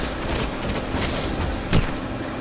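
Shotgun fire in a Crucible match in Destiny, heard as dense, continuous gunfire with one sharper, louder blast near the end, no talk over it.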